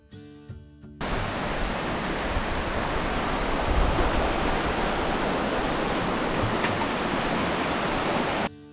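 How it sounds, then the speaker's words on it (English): Steady broadband roar of a waterfall near the end of the Great Allegheny Passage bike trail, loud and continuous for several seconds after a brief quieter opening, with no talking. "You can hear the waterfall."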